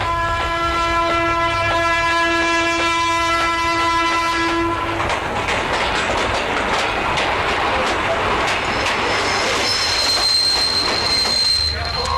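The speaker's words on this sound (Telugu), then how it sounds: "ఒరే ట్రైన్ వచ్చిందిరా." A long train horn blares for several seconds, then heavy rumbling and squealing wheels as a train rolls in close by, loud and continuous.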